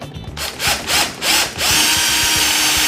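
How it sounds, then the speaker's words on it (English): A power drill whines in short bursts, biting into a wooden drawer front with grinding pulses, then runs on steadily as it pushes through into a block held behind. "When we drill this out"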